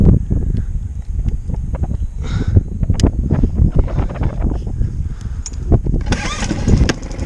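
A small outboard motor mounted on a kayak cranks and sputters up in loud, ragged bursts of engine noise, close by and mixed with wind buffeting the microphone.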